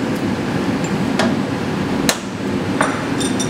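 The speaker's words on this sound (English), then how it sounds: "I'm going to start by loosening all three vices" Vise on a CNC milling machine being loosened, a few sharp metallic taps and clanks spaced about a second apart over a steady loud machine-shop hum, close by and with no talking.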